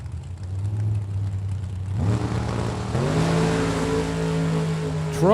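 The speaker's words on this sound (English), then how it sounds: "Trouble for the Corvette, something breaking right off the starting line" A Corvette and a Chevy II drag car sit at the starting line, then launch. Engines hum low at first, then surge in two stepped rising pulls, loud and close, with a sharp noise at the very end.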